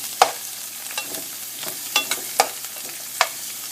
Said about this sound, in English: I'm going to go ahead and add my white part of my green onions to my oil here. I'm going to stir this.